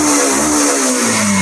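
Yamaha FZ V2 motorcycle from 2019, its engine revving loudly and steadily close by, a sustained mid-pitched drone with a slowly falling tone and no talking over it.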